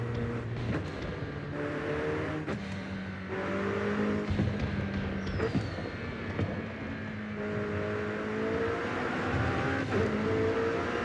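A car in Forza Horizon 5 revving and cruising, with engine tone rising and falling and scattered sharp exhaust backfire pops over a steady close engine drone.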